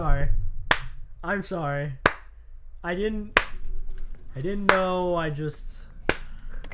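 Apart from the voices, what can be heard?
slow clapping, sarcastic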